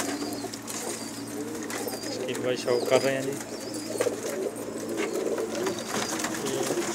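Rooftop pigeons make soft, repeated cooing calls with a few chirps against a low background hum, while someone talks over them.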